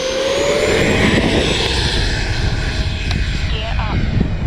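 A Freewing L-39 Albatros 80mm EDF RC jet passes low and slow, its ducted-fan whine steady and loud against wind buffeting, with a faint pitch sweep as it goes by.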